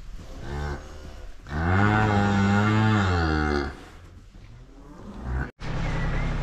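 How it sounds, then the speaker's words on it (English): Cattle on a farm, a cow and her calf, moo in a long, loud, drawn-out call with quieter lowing before and after, close by in a barn setting. "this cow and this calf, Haley's pair, they are doing awesome"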